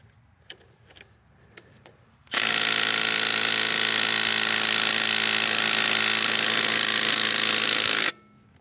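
Milwaukee M18 FUEL compact impact driver in power mode 3 spinning a shallow 3/8-inch drive impact socket, a loud close continuous hammering whir lasting about six seconds after a few light clicks.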